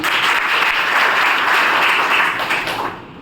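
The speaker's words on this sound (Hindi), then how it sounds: "मैं उनके लिए तालियां बजाना" A crowd bursts into sustained applause, a dense wash of many hands clapping at once that holds steady, then thins and fades toward the end.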